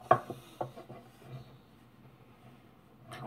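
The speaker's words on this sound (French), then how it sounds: "Vous allez prendre votre rouleau à pâte et vous allez la rouler" Wooden rolling pin rolling a ball of Fimo polymer clay, making a few soft knocks and rubbing rolls early on, then quiet, with another light knock near the end.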